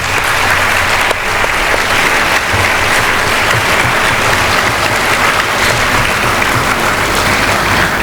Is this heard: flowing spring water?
no